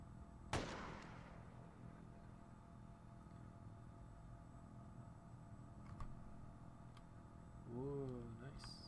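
An Apache helicopter in a flight video game fires a weapon: one sharp, fairly faint blast with a quick decay, followed by a low steady hum and a few small clicks.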